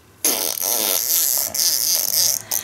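A toy skunk lets out a loud, close fart noise with a raspy, sputtering texture for a couple of seconds, broken by brief gaps.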